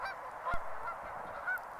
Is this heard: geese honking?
yes